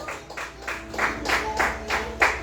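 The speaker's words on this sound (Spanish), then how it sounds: "Dele palmas a Dios," A church congregation claps together in bursts, a steady pulse of group handclaps repeating about every half second at moderate volume, with no other sound standing out.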